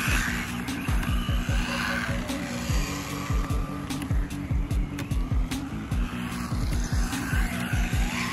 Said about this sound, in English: I seem to have had a tad of a drift breakthrough. Like, I am able to power slide a little better